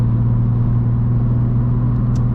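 A 2017 BMW M2 with a manual gearbox drones along steadily while driving, giving a loud, even low engine rumble with no speech over it.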